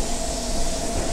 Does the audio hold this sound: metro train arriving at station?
yes